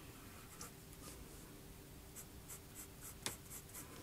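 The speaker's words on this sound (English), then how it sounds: "Reverse, it's pretty scratchy in reverse, but you can use it if you want." Nib of a London Pen Co. Nona 14 fountain pen, a firm nib, scratching across paper when written in reverse, giving faint short scratchy strokes over a quiet room hiss, with one sharper tick near the end.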